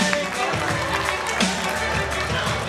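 Audience applause and cheering for a volunteer at a high school comedy hypnosis show, a steady crowd wash of clapping sustained throughout at close range, with voices mixed in.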